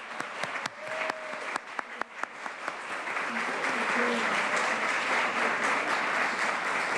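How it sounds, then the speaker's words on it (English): At a volunteer recognition ceremony, the audience gives the volunteers a round of applause: a few separate claps build quickly into a steady, full wash of clapping that carries on to the end. "Let's give one more round of applause for all of our volunteers today."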